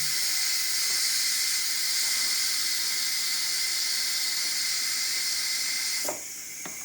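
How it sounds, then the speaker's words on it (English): Steam hisses steadily and loudly from a pressure cooker as its pressure is let out by hand, a constant broadband rush that continues for several seconds before easing slightly near the end. "It'll take a little bit longer to go ahead and let the pressure out by hand."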